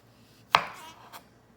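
Knife slicing through a mushroom with its stem left on, one crisp close cut followed by a fading scrape and a second softer tap against the board, otherwise quiet.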